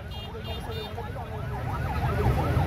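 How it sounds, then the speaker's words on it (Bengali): An ambulance siren wails steadily behind a motorcycle procession in Charghat, Rajshahi, with a low rumble of engines underneath and the siren's rising and falling tone sustained throughout. "পিছনে অ্যাম্বুলেন্স আছে, অ্যাম্বুলেন্সটা ছেড়ে দেন।"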